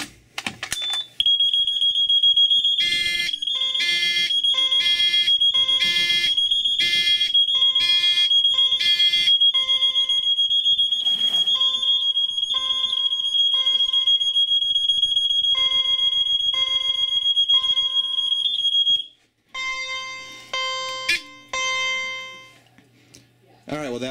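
Fire alarm panels being tested set off a loud electronic alarm: a steady piercing tone with rapid repeated beeping pulses sounding close for about twenty seconds, then cutting off, followed by softer beeps and clicks.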